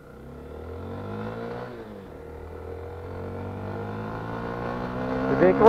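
A 2020 Honda XRE 300 motorcycle engine revs steadily, its pitch climbing as it accelerates, close and continuous, rising a little louder toward the end.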